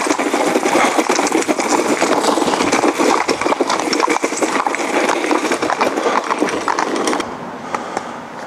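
A horse on a head collar pulls a dragging tyre over gravel, a loud continuous crunching scrape with hoof steps mixed in, close by, fading slightly at the end.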